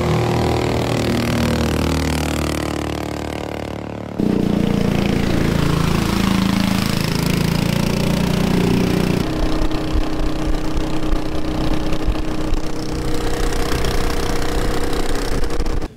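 Modified Predator 420cc engine powering a small jet boat, a loud close-up buzzing drone that shifts pitch and intensity as it revs and changes speed in several distinct stages, with no talking.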